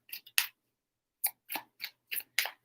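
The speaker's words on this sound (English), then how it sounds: "3 shuffles for Leo." Tarot cards being shuffled in short, crisp riffling bursts, one quick pair, then a pause followed by a rhythmic run of five close, bright flutters, near and alone.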